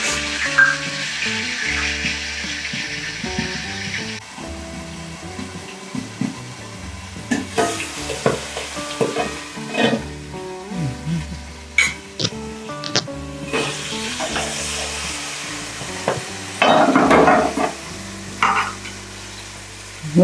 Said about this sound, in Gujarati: તો હવે આપણે વઘાર કરવાનું શરૂ કરશું.